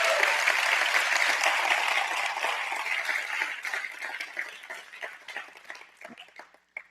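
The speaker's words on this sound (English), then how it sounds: "please stand and receive our applause" An audience at an anniversary gala applauds a family, a broad burst of clapping that starts full and loud, then gradually thins into scattered individual claps before dying out.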